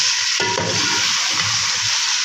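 Chicken biryani pulao with whole garam masala and browned onions being stirred in a frying pot, a steady close sizzle with soft scraping and stirring movements throughout.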